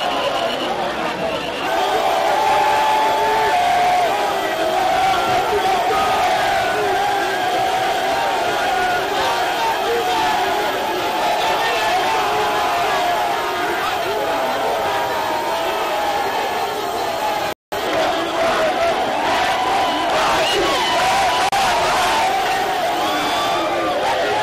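A dense, compact crowd at a Tshisekedi political rally at place Kermesse roars and cheers continuously and loudly, with babble and shouts throughout and a brief dropout near the end.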